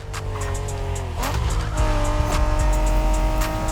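A Honda NSX sports car in The Crew Motorfest racing game revs hard with a loud, steady engine drone, broken by a brief squeal of tires partway through, with no voices.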